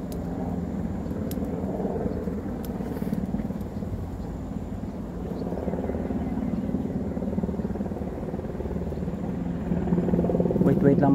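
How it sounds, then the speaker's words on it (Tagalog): Helicopters drone without a break near a river, a steady low rotor rumble that swells toward the end while someone talks over it. "Yung mga helicopter hindi talaga tumitigil. Kanina pa to eh."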